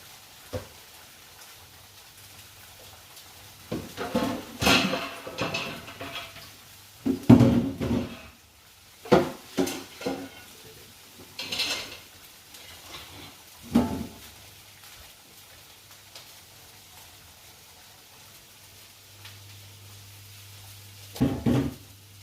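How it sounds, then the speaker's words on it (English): Kitchen clatter of pots and pans while pasta is drained, with scattered knocks, clanks and splashy bursts of water, moderately close, alongside a faint steady hum in the background. "My pasta is nearly ready, so I'm going to go and drain that while that's frying"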